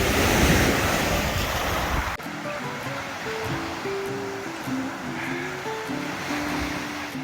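Waves on the Lake Superior shore off the northwest coast of Grand Island, near Mather Lodge: a steady wash of surf with wind rumbling across the microphone. The wind noise eases partway through, leaving the water softer and more even.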